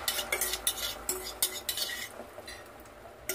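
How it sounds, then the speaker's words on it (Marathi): Beaten egg goes into a surgical steel pan over a low flame and is stirred, giving repeated close scraping and clinking strokes of a utensil against metal in an irregular rhythm, with no talking. "आता हे फेटलेलं अंडं मी ह्याच्यात टाकते।"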